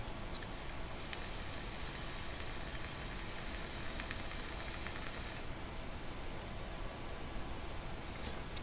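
E-cigarette coil hissing steadily during a drag, a smooth continuous hiss lasting several seconds before cutting off, fairly quiet and close with no talking.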